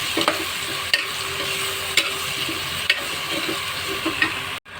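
Drumsticks and dal are stir-fried in a pan, a dense steady sizzle punctuated by regular sharp utensil knocks about once a second, ending with a brief cutoff; no one speaks.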